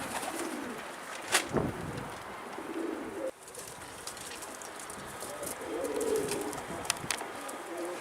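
Pigeons coo from close by as a flock settles onto the top of their coop, a soft steady murmur of calls with a couple of brief louder bursts and faint rustling throughout.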